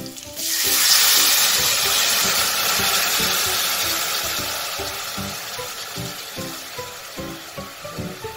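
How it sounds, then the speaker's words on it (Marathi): Blended masala water poured into a pan of frying stuffed capsicum sets off a loud hiss that surges and slowly fades, while a rhythmic stirring knock repeats underneath, close and without talk. "मी मिक्सरला फिरवलेलं मसाल्याचंच पाणी यामध्ये ॲड करणार आहे"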